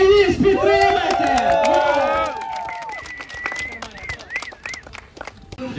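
Spectators at a BMX freestyle park competition shout and cheer loudly over an announcer's voice, the voices tapering into scattered whoops and a few faint high calls near the end.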